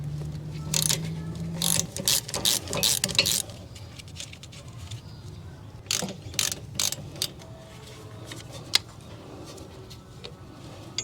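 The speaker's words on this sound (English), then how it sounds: "The next thing I'm going to do is undo the 5mm Allen head bolts that hold the motor onto the caliper." A ratchet clicks in quick repeated bursts, loosening 5mm Allen head bolts that hold the motor onto a 2017 Honda CR-V's electronic rear brake caliper, close up, with pauses and metallic handling between the bursts.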